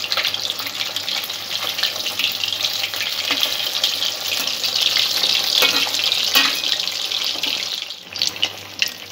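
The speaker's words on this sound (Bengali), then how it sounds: "মাছগুলো এইভাবে একটু কড়া করে ভেজে নিতে হবে।" Pieces of rohu fish frying in a pan, a steady, loud, hissing sizzle that runs without a break for several seconds and dips briefly near the end.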